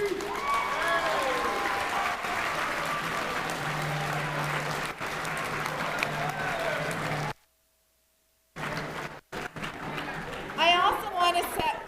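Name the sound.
round of applause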